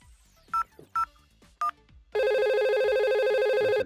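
A Cisco Packet Tracer IP phone in a VoIP simulation gives three short key tones and then a loud, continuous electronic ring with a rapid repeating warble.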